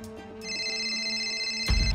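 On a game show, a telephone rings for a call: a single bright electronic ringtone, close and clear, followed by a short thump at the end.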